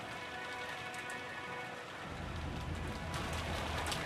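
Heavy rain pours steadily in the visual novel Umineko When They Cry while strong wind blows, a constant hiss that swells fuller and louder halfway through.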